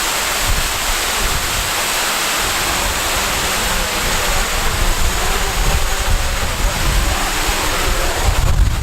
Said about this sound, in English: And of course the wind picks up as soon as you try to land.